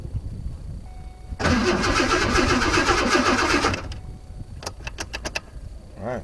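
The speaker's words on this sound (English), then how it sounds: "Alright, engine turns over." An old vehicle brought home as a restoration project cranks for a couple of seconds with a rapid churning starter sound, then briefly catches, followed by a few short sputtering bursts; no one speaks.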